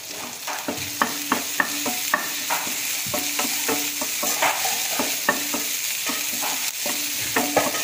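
Prawn thokku stirred and fried in a pan at home, a steady sizzle broken by repeated sharp scrapes and clacks of the spoon against the pan at an irregular rhythm, close and alone without talk.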